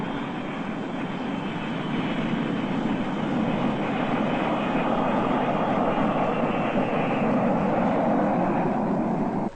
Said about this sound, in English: Slowly and carefully, their jet approaches the landing field.